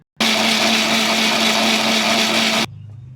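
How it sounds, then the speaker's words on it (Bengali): Blender running steadily on raw mango lassi with water, sugar, salt and black salt, a loud continuous whir that cuts off abruptly near the end, leaving a faint hum. "ভালো করে মুখটা আটকে এবার ব্লেন্ড করে নেব।"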